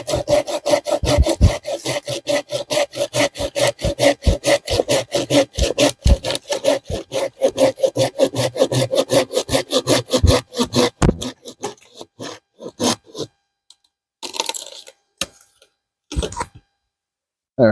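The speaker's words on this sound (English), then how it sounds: "I'm going to cut it at that 4 to 6 inch mark" Hand saw cutting through a resinous pine branch for fatwood, about eleven seconds of fast rhythmic rasping strokes close up, then a few scattered scrapes and knocks as the piece comes off.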